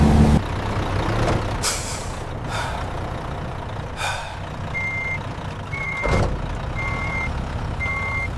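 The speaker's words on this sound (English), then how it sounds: "Every day, refrigerated trucks depart from this factory to deliver fresh fries nationwide." A refrigerated truck leaves a French fries factory, with sharp air brake hisses and then a steady run of reversing beeps against low engine rumble.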